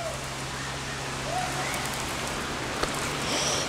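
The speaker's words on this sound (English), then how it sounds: "Uncle Frank and Jane just ran around the house in the pouring rain" Heavy rain pours down in a dense, steady hiss, with faint voices somewhere in the background.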